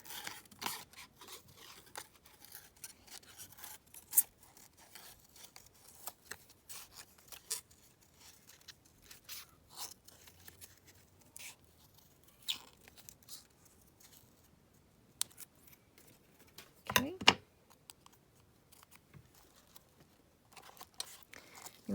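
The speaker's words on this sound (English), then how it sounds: "let's just cut around this" Scissors snip around a small paper rose for a junk journal, making quiet, sparse cuts and faint paper rustles close by, with long near-silent gaps between them.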